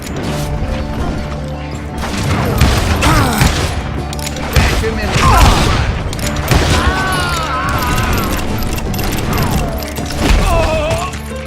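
Hired guns firing in the Western shooter Call of Juarez Gunslinger, repeated loud gunshots and crashing impacts over a continuous battle din, with voices shouting and talking between the shots.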